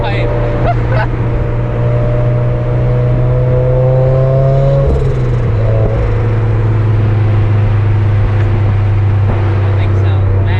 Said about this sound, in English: You got literally no exhaust on right now. It's just a straight pipe.